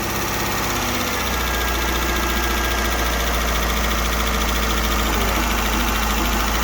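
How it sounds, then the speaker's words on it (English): A 2009 Dodge Journey engine runs steadily at idle after a rev, a loud, continuous, close rumble with a slight rough vibration throughout and no speech. "Rev it up, just rev it up and let it go."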